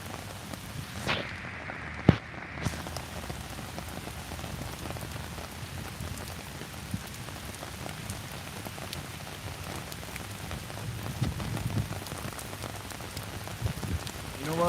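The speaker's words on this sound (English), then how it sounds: "It's a heavy rain, boy." Heavy rain pours on a street during a morning walk in East New York, a constant loud hiss of drops spattering on surfaces, with a few sharper taps and splashes close by.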